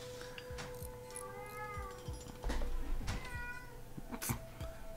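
A cat meows in a room several times, with drawn-out, fairly close calls over a steady tonal background hum.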